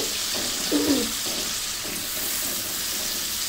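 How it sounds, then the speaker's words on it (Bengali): Coriander leaf chutney stirred in a frying pan, a steady close sizzle with soft rhythmic scraping strokes repeating every half second or so, no talking. "এখন কিছুক্ষণ নেড়ে চেড়ে এটা মিশিয়ে নিতে হবে।"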